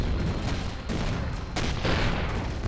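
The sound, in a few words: starter cannons firing in the video game Avorion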